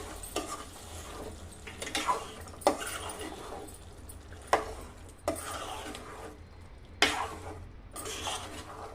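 Paste of coriander, mint, green chili and garlic frying in a pan, a soft continuous sizzle broken by repeated scraping stirs of a spoon against the pan, close and steady with no talking.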